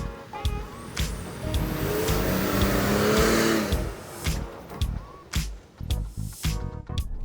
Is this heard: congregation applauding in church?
no